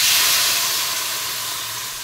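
Water poured into a hot pan of frying potatoes sets off a loud, steady burst of steamy hissing that fades only slightly over two seconds.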